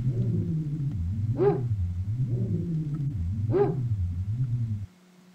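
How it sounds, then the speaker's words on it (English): Dog barking and whimpering in the Clock Tower video game, a low rumbling series of bark-like calls with two sharper yelps, fairly loud and steady, ending abruptly in near silence. "I'm aware it sounds like a dog."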